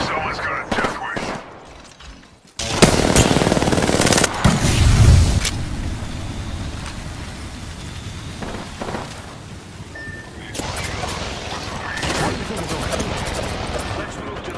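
Apex Legends gunfire: dense bursts of automatic shots and booming blasts, loud and close, with quieter stretches of scattered distant fire in between.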